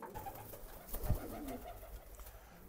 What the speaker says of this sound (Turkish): Çok güzel pır kuşlar, heyecanlı neşeli kuşlar yerlerini de tuttular.